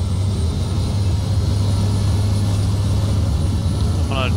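A Cessna 206 floatplane's engine runs at full throttle for takeoff, a loud, steady drone with a strong low hum holding constant throughout, close and unbroken.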